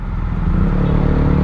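Steady low rumble of road traffic around a Yamaha T-MAX 560 scooter riding toward SM Novaliches, with a continuous engine drone and harmonic whine, loud and close throughout.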